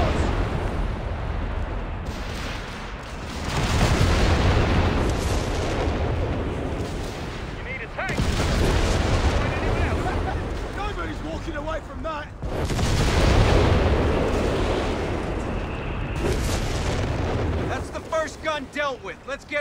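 Company of Heroes 3 artillery barrage on the Villa Literno shoreline: three long waves of rumbling shell impacts and booming fire, loud and continuous, each swelling then easing, with soldiers shouting between and over the blasts.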